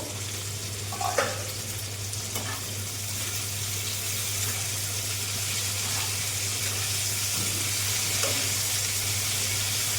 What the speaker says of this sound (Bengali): ফুলকপিটা আর একটু ভাজা হোক